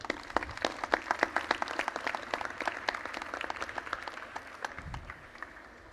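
An audience at a JuliaCon conference talk applauds with dense, sustained clapping for several seconds before it tapers off.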